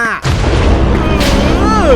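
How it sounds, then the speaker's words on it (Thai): Explosions go off in Minecraft as two loud booming bursts about a second apart, with a voice talking over them. "ระเบิดตุ้มตามตุ้มตามมาเนี้ย"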